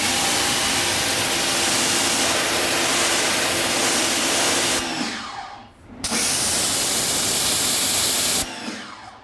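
A Ryobi 1600 psi electric pressure washer sprays steadily up close, its loud hissing jet and motor hum cutting out briefly about halfway through, then resuming before stopping again near the end.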